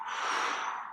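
A single deep breath in is taken during an abdominal exercise: one steady, breathy inhale lasting under a second, close and clear.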